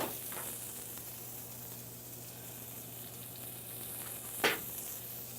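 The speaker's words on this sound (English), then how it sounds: "Saving a little olive oil in the pan" Olive oil in a very hot pan while making beef Wellington, a soft steady sizzle that stays faint throughout, with a brief louder crackle near the end and a low hum underneath.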